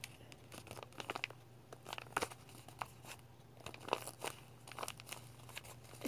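Paper squishy stuffed with foam or sponge being squeezed by hand, giving repeated soft crinkling and crunching bursts in an irregular rhythm, close and fairly quiet, with no talking.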